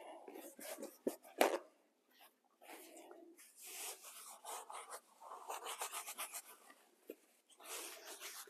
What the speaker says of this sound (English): I'm going to try to wipe up the bulk of this with paper towels.